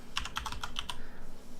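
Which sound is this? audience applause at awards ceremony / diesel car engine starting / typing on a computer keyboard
typing on a computer keyboard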